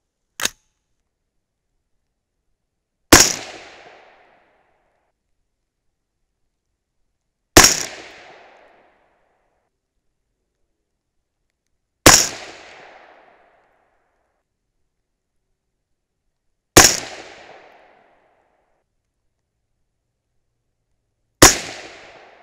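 A .223 Remington rifle loaded with 55-grain Hornady V-Max over 24.9 grains of 8208 XBR fires a five-shot group, each loud sharp report ringing briefly before silence, spaced about four to five seconds apart, preceded by a faint click.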